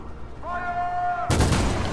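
Gunfire in the video game Detroit Become Human: a sustained tone is abruptly cut off by a loud, dense burst of shots that keeps going to the end.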